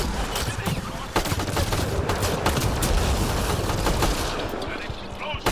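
A sci-fi explosion in Mass Effect Andromeda, set off by Remnant hammer fire on Eos, comes as a dense, sustained barrage of booms and crackling blasts, loud and close, with a voice speaking over part of it.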